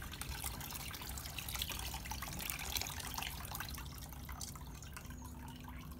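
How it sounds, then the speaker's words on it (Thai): Rinse water from washing sticky rice trickles and drips steadily, a soft continuous splashing and dribbling heard close and fairly quiet with no voices. "น้ำที่ล้างตรงนี้นี่เอาได้หมดเลยนะครับเชฟซีครับไปทำน้ำซาวข้าวได้ครับ"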